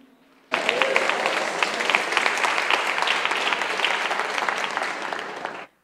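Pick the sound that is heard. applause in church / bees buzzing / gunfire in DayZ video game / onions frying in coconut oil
applause in church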